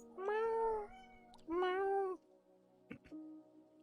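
A cat meows twice in long, drawn-out calls close by, followed by a short, faint chirp, with no talking in between.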